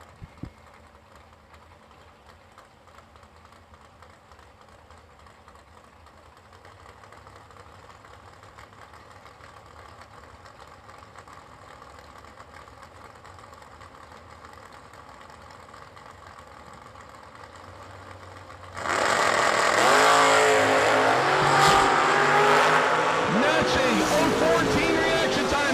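Drag race cars at the New Year Nationals idle with a low, lumpy rumble for a long stretch, then erupt into a loud, roaring launch down the strip; a voice talks over the idling.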